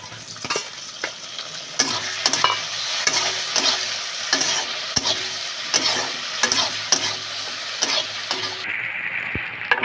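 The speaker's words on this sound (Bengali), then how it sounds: "রসুন পেঁয়াজ মাঝে ভাজা হয়ে গেছে আমি এবার চিংড়ি মাছগুলো দিয়ে দেবো" Prawns fry in a pan with garlic and onion, a steady loud sizzle running throughout, broken by repeated sharp scrapes and taps of a spatula stirring the pan.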